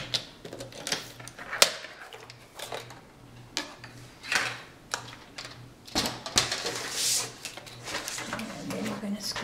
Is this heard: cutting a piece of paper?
yes